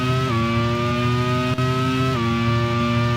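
Porsche-engined Williams Formula One race car at Monaco in a 1991 Grand Prix racing game, a loud steady high-pitched engine whine with sharp gear-shift pitch drops, continuous and close with no talk.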